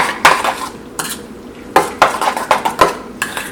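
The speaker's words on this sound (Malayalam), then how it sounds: "ഇതെല്ലാം കൂടിയിട്ട് നന്നായിട്ടൊന്ന് മിക്സ് ചെയ്യാം." A utensil stirs an egg mixture seasoned with pepper and salt in a bowl, making a rapid, uneven series of close, sharp clinks against the bowl's sides.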